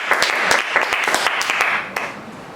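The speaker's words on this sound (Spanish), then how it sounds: "pediría un fuerte aplauso para el protagonista" An audience at a book launch for the novel En la mira applauds the author. The clapping is nearby and moderately dense, with distinct sharp claps at first, and it eases off slightly toward the end.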